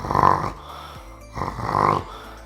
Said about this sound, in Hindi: ऐसे के खर्राटे खींचता रहता है